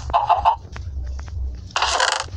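Chickens cluck in a video game in a few short bursts, fairly loud and close, over a low steady background rumble, with a louder burst of squawking near the end.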